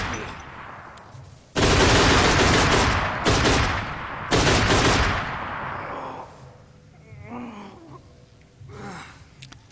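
Gunfire from the video game Velvet Assassin, with several loud, dense bursts packed close together. The shots fade into quieter game ambience.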